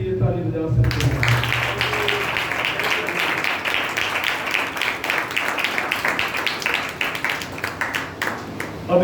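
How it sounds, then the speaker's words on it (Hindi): Congregation at a church worship service applauds together for about nine seconds, steady dense clapping close and loud after a brief moment of talk and music at the start. "यह सब में अपने लिए ताली बजा सकते हैं।"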